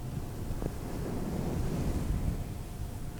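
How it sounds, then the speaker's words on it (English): Gentle waves wash onto a sandy shore, a steady low rushing surf with soft wind noise, continuous and fairly near, with no talk. "In the background, you hear what appears to be waves crashing gently onto the shore."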